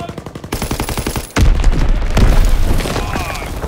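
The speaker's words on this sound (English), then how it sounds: "Enemy bomb incoming. Get to cover." An enemy bomb strike in Call of Duty WW2 multiplayer: a rapid clattering of gunfire gives way to a sudden heavy boom, followed by a second blast and rolling low rumble that sustains loudly to the end.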